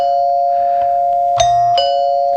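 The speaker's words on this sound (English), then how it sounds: "This little plunger goes down and hits the bottom, and that's your back doorbell." A plunger-type back doorbell chime strikes its tone bar, giving a sustained steady tone with two sharp metallic strikes partway through, each followed by a short ringing decay, close and clear with no talking.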